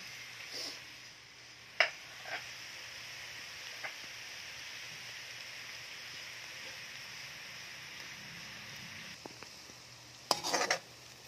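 Garlic sizzling in butter in a pan, a steady soft hiss that runs the whole way, broken by a few sharp clinks of a utensil against the pan.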